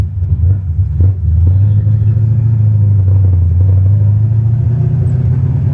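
A manual big cam car engine pulls away in first gear, a loud, close low rumble that climbs and holds steady with a slight rising tone, no voices over it.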